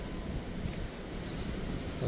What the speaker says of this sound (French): Bon, ça va pas mal de vent.